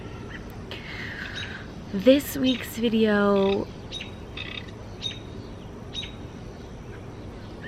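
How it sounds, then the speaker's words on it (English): A bird gives a short burst of loud, rising chirps and squawks outdoors, with a person talking throughout. "This bird is really annoying."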